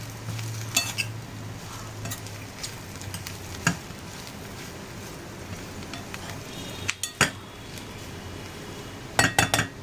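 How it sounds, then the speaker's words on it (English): Leftover chapati pieces fry in oil or ghee in a pan, a steady soft sizzle running throughout, broken by a few sharp clinks and scrapes of a spoon stirring against the metal. "It has to get fried in this oil or ghee, whatever you're using, so it becomes nice and crispy."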